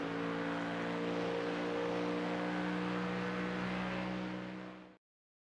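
Ford Mustang GT3 race car engine in iRacing at Mugello drones loudly and steadily under acceleration, a sustained buzzing roar that holds for several seconds and then cuts off abruptly.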